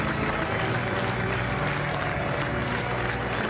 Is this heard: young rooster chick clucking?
no